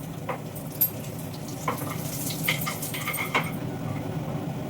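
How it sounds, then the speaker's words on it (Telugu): Mustard seeds, chana dal, urad dal and a dried red chili tempering in hot oil make a soft, continuous sizzle, broken by scattered small pops and crackles, fairly quiet and with no talking. "ఆవాలు టక్కన్నాయి, శనగపప్పు, అలాగే ఒక ఎండుమిరపకాయ తుంపను, మినపప్పు, కొంచెం కరివేపాకు"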